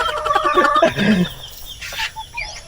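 A hen on a small farm clucks close by in a quick series of rising, squawky calls, followed by softer scattered clucks and faint background sounds.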